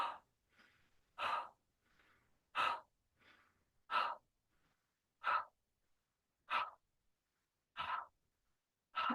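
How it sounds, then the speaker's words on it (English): Forceful Fan the Fire qigong breaths, a yang-style belly-pumping exercise: sharp, loud exhalations repeat at a steady rhythm of roughly one per second and a half, with softer inhales between them. "The Fan the Fire breath is a really yang kind of breath work."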